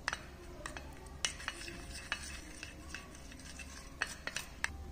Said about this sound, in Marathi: आणखी थोडंसं इथं पाणी ओतणार आहे आणि असं हलवून घ्यायचं।